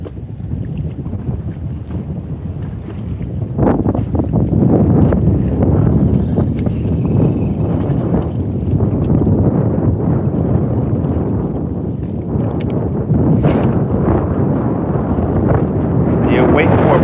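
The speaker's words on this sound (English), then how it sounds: "I know you guys can hear the wind." Strong wind blows across open water during a bass fishing trip, a loud continuous rushing roar buffeting the microphone with no talk.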